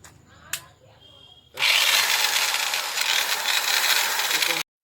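A homemade grass cutter built on a 240-volt, 2600 RPM motor switches on after a few faint clicks and whirs at a loud, steady high pitch for about three seconds, then cuts off abruptly.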